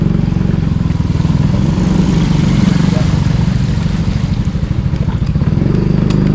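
A motorcycle rides through heavy rain on a flooded road. Its steady engine drone blends with a constant loud wash of rain and spray.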